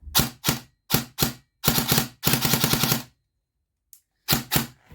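Airsoft replica firing in binary trigger mode, with fast paired cracks on pull and release, then two longer rattling bursts, a pause, and another quick pair, loud and close.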